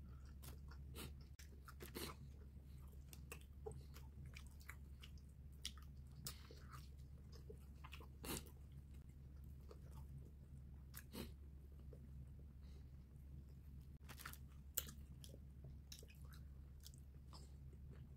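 Sushi with soy sauce and wasabi is bitten and chewed close up, with faint soft crunches and squishy clicks scattered over a low steady hum, quiet throughout and with no talk.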